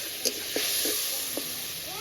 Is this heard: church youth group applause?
no